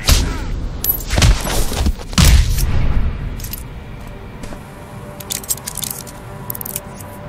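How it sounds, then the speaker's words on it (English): Gunfire in the video game Hitman Absolution, heard as a loud burst of several shots up close in the first few seconds, then fainter clicks and scattered game sounds. "Gunshots! Repeat, gunshots have been fired!"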